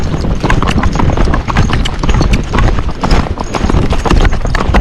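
A Missouri Fox Trotter horse canters, its hooves drumming in a fast, steady rhythm close by, loud and continuous with faint tack and breathing sounds mixed in.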